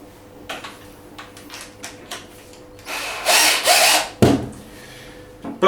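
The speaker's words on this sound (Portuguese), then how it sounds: "foi só montar a broca craniana" A hole saw is fitted to a drill to cut through a Delta Q coffee capsule. Soft clicks and handling noises come first, then several short bursts of drill whir and grinding, each stopping abruptly.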